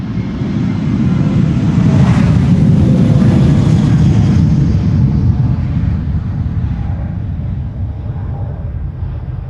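Jet airliner taking off at Schiphol Airport, a loud broad roar that swells over the first few seconds and then slowly fades as the aircraft climbs away, with no voices present.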